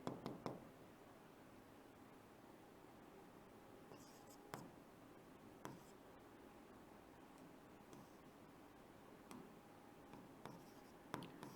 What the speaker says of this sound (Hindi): कुछ मुख्य बातें वो मैं लिखता हूँ यहाँ पे नोट करके